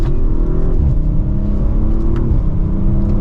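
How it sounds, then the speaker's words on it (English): A 2023 Audi RS5 Sportback accelerates, its engine droning loud and close from inside the car with rising pitch that drops briefly at each gear change, then climbs again. "we will do one last turn and acceleration for today's video"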